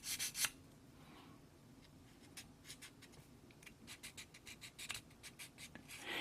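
Hand sanding of a 1/144 Zeta Gundam plastic model kit part, with quick, soft scratchy strokes that come in close, light rhythmic bursts.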